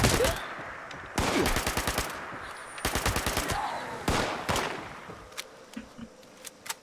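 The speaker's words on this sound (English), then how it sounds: "I'm going to extremely ineffectively take these guys out with this SMG" An SMG fires in Fallout 76 in several rapid bursts, each a loud, close string of crisp shots separated by short pauses, with scattered single pops as the fighting trails off.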